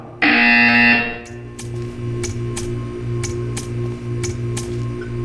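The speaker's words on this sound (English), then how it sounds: "When you hear the buzzer, stare at the art" In the test chamber of the Portal 2 video game, a harsh electronic buzzer sounds once loud and sustained for about a second, followed by a steady low hum and a run of evenly spaced clicks.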